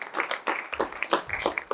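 A contestant on stage at a talk event is greeted by audience applause that comes in uneven bursts and swells, loud and close, with voices mixing in.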